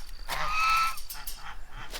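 Geese honk loudly and close while being fed scratch in the morning: one long honk followed by several shorter calls, with no voices over them.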